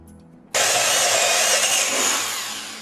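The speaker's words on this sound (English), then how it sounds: "as you begin with the drill, your drill bit won't be wandering all over the counter" An electric drill starts abruptly and grinds steadily into a countertop while installing a countertop water cooler, loud and close, holding a harsh broadband whine until the end.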